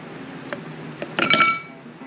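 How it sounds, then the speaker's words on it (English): Ice cubes dropped one by one into a glass to make iced coffee. A couple of separate clinks come first, then a quick cluster of rattling clinks as more cubes fall in, heard close up in a quiet room. "I'm going to take a couple of ice cubes, probably enough to fill up half of the glass."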